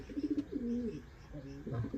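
Pigeons coo nearby in soft, throaty, repeated phrases, with a few low warbling calls overlapping and no talking.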